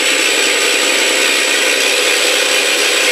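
An FMS Stuka RC plane's onboard engine sound system run at half throttle gives a steady, loud droning engine tone that holds unchanged throughout, with no talk.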